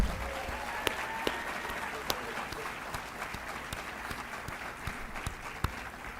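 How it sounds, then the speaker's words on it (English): An audience at a high school academic awards ceremony gives a steady round of applause, a dense, moderately distant patter of clapping with a few sharper claps standing out. "how about a big round of applause for Miss Jeannie Roy?"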